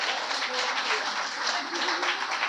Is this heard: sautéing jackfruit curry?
no